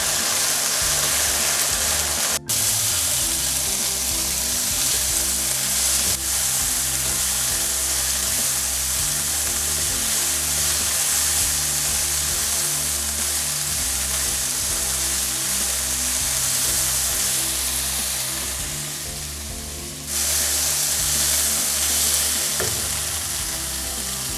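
Capsicum, carrot and cabbage stir-frying for chow mein, a loud continuous sizzle with an occasional sharp clank of the utensil and a brief dip midway as the vegetables are tossed.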